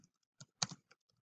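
Close keystrokes on a computer keyboard while entering LaTeX commands come as a short, sparse run of soft clicks with brief pauses, quiet and alone.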